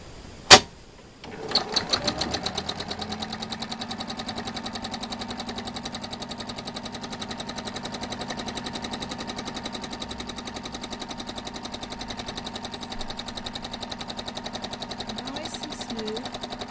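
A sewing machine stitches freestyle machine embroidery with a fast, even needle clatter after a sharp click at startup. The rapid rhythmic chatter stays steady and close for the rest of the clip.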